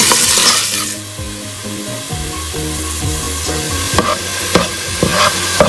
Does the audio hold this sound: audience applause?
no